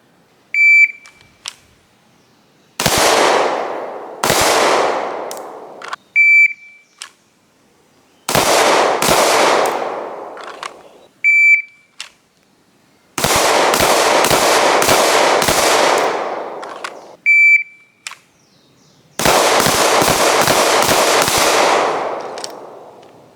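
Wilson Combat SFX9 9mm pistol firing NATO-pressure rounds: about a dozen sharp, loud shots in spaced groups of one to five, each ringing out with a long echo tail, and short electronic beeps from a shot timer between strings.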